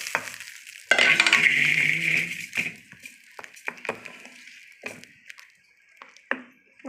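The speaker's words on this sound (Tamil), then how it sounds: "இது தாளிப்பு எடுத்து நம்ம அரைச்சி வச்சுக்கிட்ட புளிச்சக்கீரை கடைசலோட சேர்த்துக்குவோம்." Tempering poured into gongura (sorrel leaf) chutney: a loud sizzling burst that fades, followed by scattered stirring clicks and taps of a spoon against the pan.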